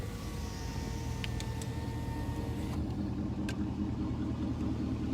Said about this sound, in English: It's a loud muffler you got there.